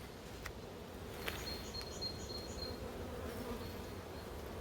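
Dense, steady buzzing of many honey bees close by on a National beehive frame, a continuous insect hum with a few brief higher tones over it.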